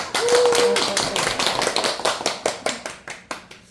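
An audience at a poetry and literature lecture in a small library applauds, a dense burst of clapping that thins into scattered, separate claps as it dies away over a few seconds.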